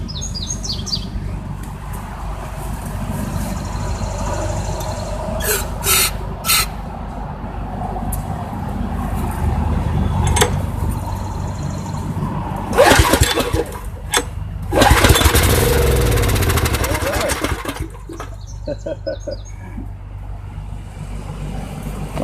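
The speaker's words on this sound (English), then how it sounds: "I just want to pull this off and hear if the engine runs" A Craftsman pressure washer's small gas engine being pull-started outdoors, with rough bursts of engine noise and sputtering over steady low rumble, birds chirping faintly in the background.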